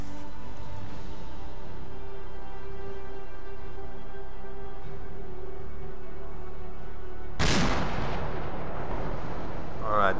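An artillery shell lands in the military video game ArmA 2: after a long stretch of steady low ambient hum, a sudden loud explosive impact bursts out and rolls away in a decaying rumble.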